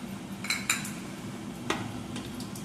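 Curd raita being stirred with salt in a bowl, giving a few sharp clinks of a spoon against the dish amid soft steady kitchen noise, with no voices.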